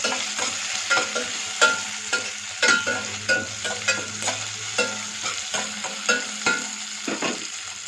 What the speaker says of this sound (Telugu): ఇప్పుడు ఒకసారి మంచిగా కలిపిస్తున్నామండి.